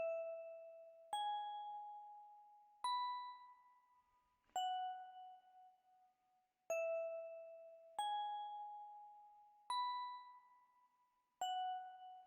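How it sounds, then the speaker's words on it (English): A 4U FM Vibe bell from Purity plays alone in FL Studio, eight clear bell tones with shimmering overtones in a steady repeating pattern, each ringing briefly and decaying before the next strikes. "another bell from Purity that I kind of use like a counter. This is 4U FM Vibe bell"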